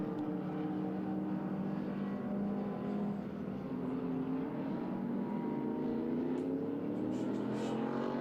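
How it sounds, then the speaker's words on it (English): A silver Ford Escort race car runs down the back straight at a regularity session of a speed festival at Winton, its engine droning steadily with a slowly rising pitch, loud and close, with no talk over it. "Beautiful little escort there, the silver escort, making his way onto the back straight."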